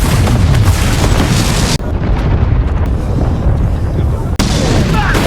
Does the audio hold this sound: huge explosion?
yes